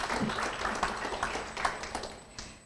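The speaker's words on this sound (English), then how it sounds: "so a big applause for all of you." Crowd applause at a 2021 university commencement ceremony for the graduates, a steady, moderately distant wash of clapping throughout with faint voices mixed in.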